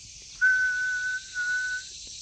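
A human voice whistles a thin, steady high tone in imitation of the faint whistle from a truck's exhaust, one sustained note with a brief dip partway through, close and clear against quiet background.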